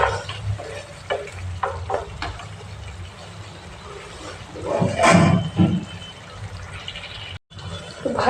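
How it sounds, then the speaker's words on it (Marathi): Hot water poured into the masala of a Khandeshi shev bhaji makes the pan sizzle and spit, rising to a sharp, loud burst partway through over a background of stirring and bubbling. "मसाल्यामध्ये पाणी घातल्यामुळे नाही का थोडंसं असं पाणी वर उडायला लागतं"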